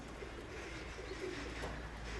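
Pigeons cooing softly at a pigeon loft, with low, steady coos drifting from a short distance over a faint outdoor background and no voices.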